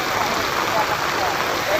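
Floodwater rushing steadily around a flooded school building during heavy rain, a dense continuous wash of water noise that stays loud and unbroken.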